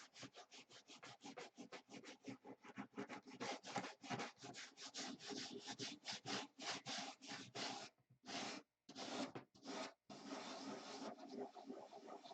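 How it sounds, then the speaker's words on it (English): A wooden piece is hand sanded with 80 grit sticky-back paper in quick, rhythmic back-and-forth rasping strokes, close and steady, with a few short pauses near the end. "we'll do a little hand sanding"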